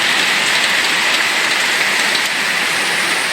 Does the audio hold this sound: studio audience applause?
no